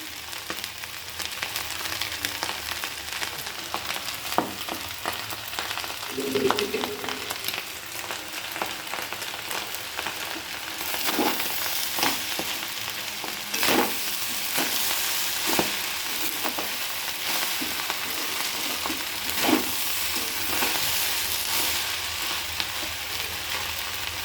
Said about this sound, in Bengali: এবার একটু ভাতটাকে ভেজে নিলেই হয়ে যাবে।